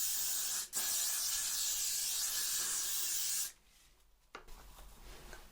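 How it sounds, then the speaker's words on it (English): Hairspray hisses in one long, close, steady burst onto a wig, with a brief break near the start, then stops, leaving quiet handling sounds and a faint rustle. "I'm gonna take some hairspray."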